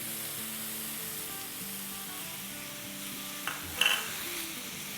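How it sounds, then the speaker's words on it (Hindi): Ground meat and tomato puree frying in a pan, a soft, steady sizzle at low level with a brief clink of a utensil near the end and no voices. "तो बस इसे हम फ्राई करेंगे 2 से 3 मिनट तक"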